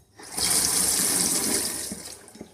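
A sink tap in a house is turned on and water gushes out: a steady rushing stream that starts abruptly, stays loud and close, then eases slightly near the end, with no talking.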